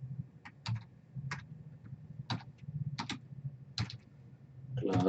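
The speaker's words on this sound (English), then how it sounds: "Let me see, let me type it up." Keystrokes on a computer keyboard while setting up a lab on configuring basic router settings, arriving as irregular bursts of a few clicks with short pauses between them, fairly quiet and close, without talk.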